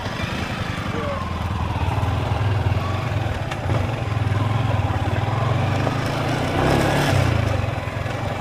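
Motorcycle engine, a Rusi-type rugged bike, running steadily up close with a rough mid-pitched drone that swells slightly near the end, with faint talk mixed in.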